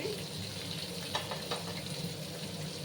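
Cut potatoes sizzling in hot oil for Bengali alu bhaja, a steady close frying hiss with faint stirring clicks.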